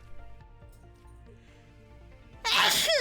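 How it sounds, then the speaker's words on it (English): A single loud, sudden sneeze from a streamer bursts in near the end, following quiet background game music and low clatter. "Oh my goodness! I sneezed!"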